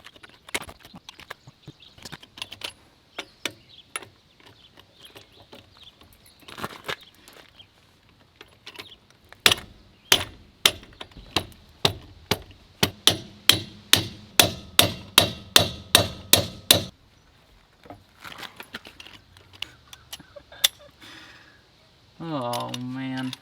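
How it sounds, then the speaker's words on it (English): Lug nuts being broken loose on the wheel of a Ford F-150 truck, heard as a rapid series of sharp, loud metallic clacks from a tool, close by, followed by a brief spoken remark. "I'm gonna break the lug nuts"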